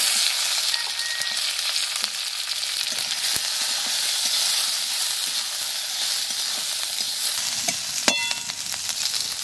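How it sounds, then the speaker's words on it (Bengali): Cumin seeds, dried red chillies and onion frying in hot oil give a steady, loud sizzle and hiss with faint stirring ticks throughout, and a sharper crackle near the end. "জিরে দিচ্ছি আর শুকনো লঙ্কা পেঁয়াজ দিয়ে দেবো"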